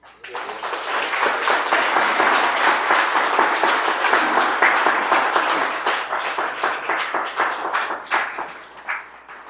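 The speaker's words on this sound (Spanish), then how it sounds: "Dele un aplauso a Dios." A church congregation applauds steadily for several seconds, the clapping swelling quickly then tapering into scattered, individual claps near the end.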